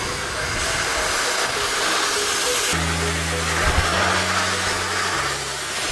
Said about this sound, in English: I'm going to blow dry my hair